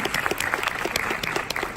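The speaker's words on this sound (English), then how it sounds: "let's clap for them" A short burst of dense audience applause for speaking competitors at a public speaking event, steady, close clapping from many hands with no break.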